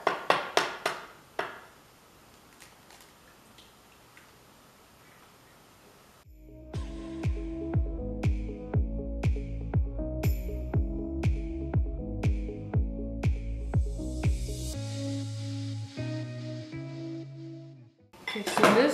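A whisk or utensil knocks rhythmically against a bowl while beating egg into taro cookie dough, a steady series of clinks lasting several seconds after a few sharp taps and a quiet pause.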